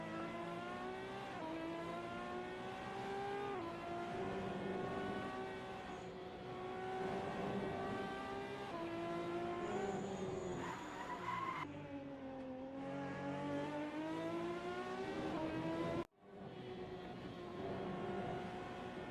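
A race car at full pace in a Procar Series qualifying session, its engine screaming with sustained revving that rises and falls through gear changes, loud and close for the whole stretch, with a brief cut near the end.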